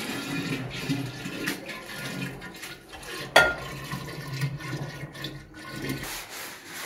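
Traditional balsamic vinegar of Modena poured slowly, a thin continuous trickle of liquid with a gentle splash midway, close and quiet throughout.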